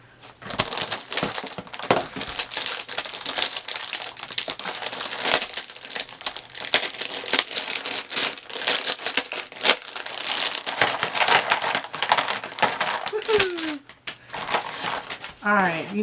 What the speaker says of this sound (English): Once all this paper gets done rattling